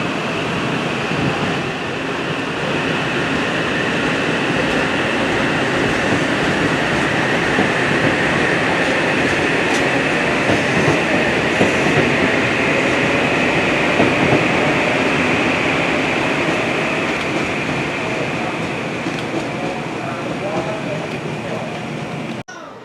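A train rumbles steadily through Old Saybrook station, a continuous loud roll of wheels and rail noise that holds for over twenty seconds before cutting off, with a faint voice now and then underneath.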